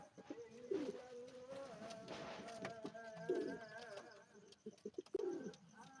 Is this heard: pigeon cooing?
yes